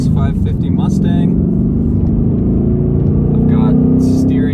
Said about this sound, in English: here we are driving the new S550 Mustang